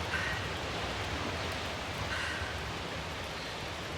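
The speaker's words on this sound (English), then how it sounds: "Or somehow it's raining underground" Steady, hissing rain falls in the video game The Invincible, heard underground as an even, close wash of noise with no gaps and no voices.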